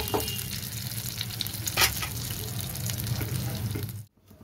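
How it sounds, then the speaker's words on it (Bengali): Lentil cakes (dhoka) for a cauliflower dhoka dish fry in oil, giving a steady close sizzle with light stirring and scraping, a brief sharper burst near the middle, before it cuts off into near silence at the end. "আমার 2 পাশ লাল লাল করে ভাজা হয়ে গেছে।"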